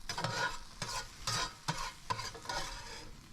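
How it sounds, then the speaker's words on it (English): Arugula being stirred in a hot frying pan for a fried mozzarella cheese sandwich, giving a steady close sizzle broken by several rhythmic scraping stirs, with no voices. "Keep stirring this until your arugula is nice and limp"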